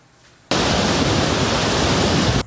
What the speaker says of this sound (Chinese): 汹涌水流奔腾而出